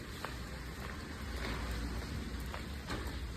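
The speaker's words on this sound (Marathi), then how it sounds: "एकदा एवढा पाऊस चाललाय" Heavy monsoon rain pours steadily beside a parked vehicle, a dense continuous hiss of drops with a low rumble underneath, fairly faint, with no voices.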